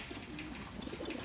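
Young racing pigeons in a loft give soft, low cooing calls that rise and fall in a few murmuring bursts over faint background noise, with nobody speaking.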